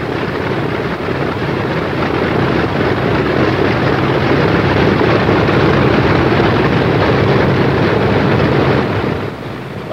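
A McDonnell Douglas A-20 aircraft taxiing with its engines running, a loud, steady propeller drone and roar holding constant, close by and alone with no voices.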